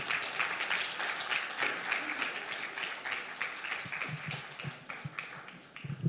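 Audience applause at a panel discussion following a documentary screening, sustained dense clapping throughout as guests are welcomed onto the stage, with a few louder individual claps near the end.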